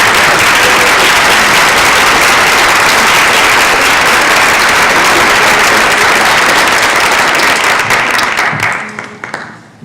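Audience applause after a panel discussion, a dense, loud, steady wash of clapping that continues for about nine seconds before thinning out and fading.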